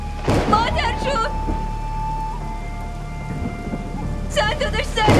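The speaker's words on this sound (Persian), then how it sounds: "بارون شدید داره میباره، طوفان اومده." Steady heavy rain pours in a thunderstorm with a low rumble of thunder underneath, while voices speak briefly in Persian at the start and end.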